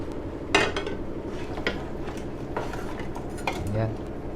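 A spoon stirs and scrapes through mixed ingredients in a pot of balbacua, producing irregular metallic clinks and clatters close by, with a faint voice in the background.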